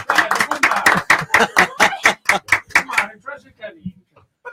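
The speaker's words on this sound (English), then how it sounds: "I think she needs the applause, Pete." Several people clap at a casual pizza night gathering with drummers, giving a quick run of crisp, close claps for about three seconds before they thin out and a voice speaks briefly.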